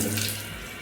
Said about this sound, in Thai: ไม่ดันตัว บนก๊อกน้ำเนี่ย น้ำก็จะออก ด้านล่างนะครับ